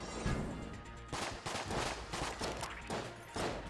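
Rapid bursts of Colt revolver fire from the video game Enter the Gungeon, loud close shots repeating in quick clusters with no talking.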